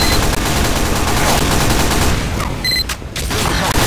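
Rapid turret gunfire rattles continuously in Team Fortress 2, a loud dense fusillade of shots filling the clip, with a brief electronic beep near the end and no talk over it.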